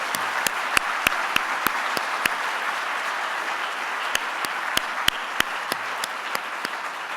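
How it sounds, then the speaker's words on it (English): An audience at a centennial launch event applauds panelists, directors and performers, producing a steady, dense clapping that carries throughout at even volume, with a few sharper individual claps standing out near the front. "I'd like to give everybody, all our panelists, our directors, our performers, a great round of applause and thank you."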